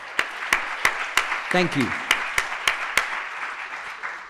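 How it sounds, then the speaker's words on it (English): Sparse, separate hand claps ring out in a conference hall at an awards ceremony, a slow uneven smattering of applause, while a voice briefly speaks over it. "let's give everyone a round of applause who spoke"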